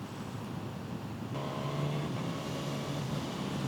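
A Suzuki GSX-S1000 motorcycle being ridden, its engine a steady low drone that swells slightly in pitch and loudness partway through, heard alone at moderate level.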